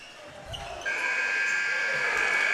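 A sustained electronic buzzer sounds loudly at halftime through the back half of the clip, cutting over a noisy high school basketball gym with bouncing basketballs and crowd chatter.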